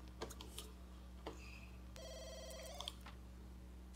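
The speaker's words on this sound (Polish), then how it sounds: "ktoś nawet dzwoni" Telephone ringing in The Sims 2 Nightlife video game, a quiet electronic trill with a few short blips beforehand over a low steady hum.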